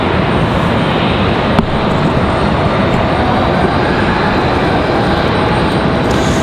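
An American Airlines jet arriving from Charlotte at Raleigh-Durham airport at night makes a loud, steady broadband roar that holds at an even level throughout, with a brief sharp click partway through.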